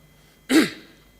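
One short, sharp cough rings out close to the listener in a quiet room during a Senate speech, and nothing follows it.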